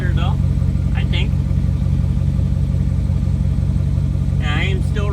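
A 2008 Chevrolet Silverado with a 5.3 V8 and muffler delete, still running through the cats, rumbles at a steady, fairly quiet idle with a deep pulsing tone, while someone talks over it.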